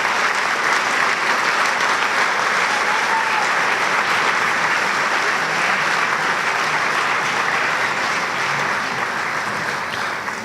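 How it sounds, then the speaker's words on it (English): Loud, sustained applause from an audience at a school awards program, dense and even clapping that fills the hall for about ten seconds, tapering slightly near the end. "Ladies and gentlemen, a round of applause."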